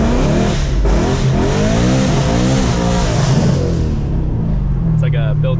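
A BMW E92 M3 engine-brakes in first gear as the clutch is released, rolling downhill on a mountain road with a loud, wavering mid-range engine drone and pitch sweeps, under constant talk.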